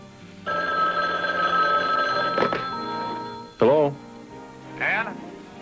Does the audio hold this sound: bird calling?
no